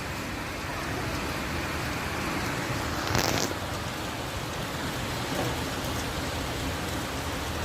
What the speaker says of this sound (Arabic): وجه مطر شديد ما شاء الله